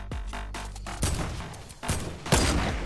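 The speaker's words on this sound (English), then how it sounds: "Who's shooting me?" Video game gunfire in squad play, several loud bursts of shots cracking close by in quick clusters with short pauses between them.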